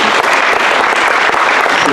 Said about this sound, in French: C'est Valérie Guido que je vous demande d'applaudir